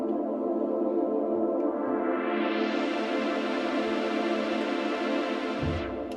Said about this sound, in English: so it sounds like this and you get this lovely kind of filter rise